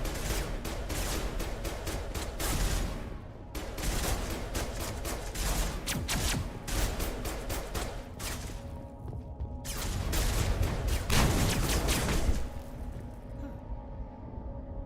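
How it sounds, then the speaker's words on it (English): Dense, continuous gunfire in the Mass Effect video game, rapid bursts of shots hammering at walls, loud and sustained with brief gaps between volleys. "Why are they shooting at walls?"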